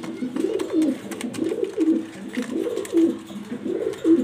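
Pigeons cooing in a pigeon loft in Mirpur, Dhaka: repeated low, throaty rolling coos in a steady rhythm, close and clear, with several birds overlapping and no talking.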